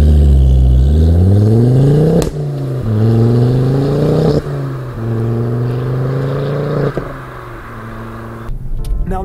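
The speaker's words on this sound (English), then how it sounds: "these plops and flops and everything out of the exhaust pipe is just" A Ford Focus RS Mk II five-cylinder engine revs up repeatedly through rising gears, loud and close, with sharp pops and crackles from the exhaust between pulls.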